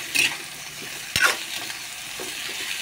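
Vegetables being stirred and fried in a pan, with a soft continuous sizzle under sharp scraping stirs, a loud utensil strike in the middle and brief bursts at the start and end.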